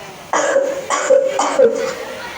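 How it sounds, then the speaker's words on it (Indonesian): Three short coughs, loud and close, spaced roughly half a second apart in a school musical drama, each a harsh burst with a strained vocal tone. "Anak itu mendengar suara batuk dari bilik kamar ibunya yang tertutup rapat."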